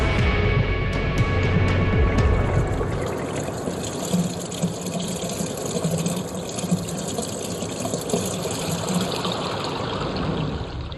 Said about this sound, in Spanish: En esta maqueta del Air Canada Centre, el agua imita al viento y la arena el movimiento de la nieve